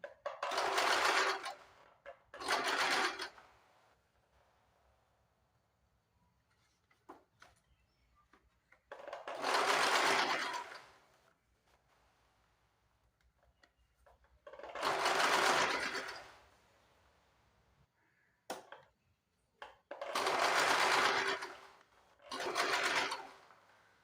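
A sewing machine runs down the middle of fabric strips to make piping, in five or six loud, close bursts of a few seconds each, separated by quiet pauses with faint handling noises.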